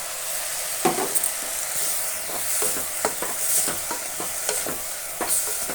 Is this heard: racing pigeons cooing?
no